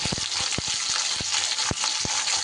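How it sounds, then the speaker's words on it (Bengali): Flat beans fry in hot oil in a pan with a loud, steady sizzle that fills the whole stretch, broken by sharp pops and a few clattering turns of the spatula nearby. "শিমটা একটু সুন্দর করে আমি এপিট ওপিট করে ভেজে নেব"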